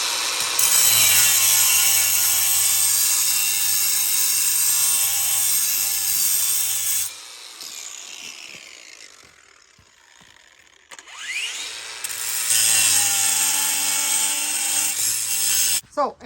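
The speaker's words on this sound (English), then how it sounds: "this is a diamond tip type of cutoff wheel" A diamond-tip cutoff wheel grinds loudly through metal beside a Chrysler 300's front strut, a steady bright whine that stops for a few seconds of spin-down and quiet, then bites in again at full volume.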